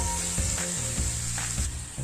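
Pav bhaji spices stirred in a hot frying pan, a steady close sizzle with soft rhythmic scraping strokes of a spoon running throughout.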